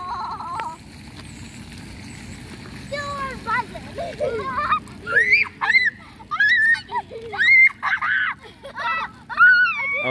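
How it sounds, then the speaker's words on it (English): A child screams in shrill, rising bursts while being splashed with cold water at an outdoor splash pad, with spraying water hissing steadily underneath. "Okay, no more screaming."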